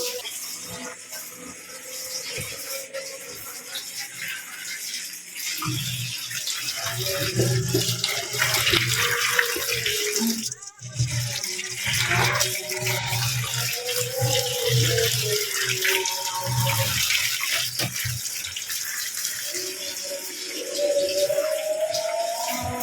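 Water runs and splashes steadily at close range as it is poured into a cooking pot in a home kitchen, a continuous tap-like gush with faint background sounds and a brief pause midway.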